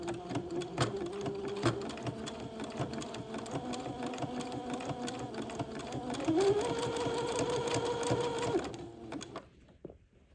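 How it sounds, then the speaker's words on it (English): Sewing machine zigzag-stitching two overlapping layers of lace on a dress being lengthened, a steady close whirring hum that rises in pitch partway through and stops near the end. "zigzag the two layers of laces together, overlapping them nicely"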